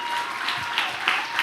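A church congregation applauds its band with dense, steady clapping filling a large space, sustained throughout at moderate loudness.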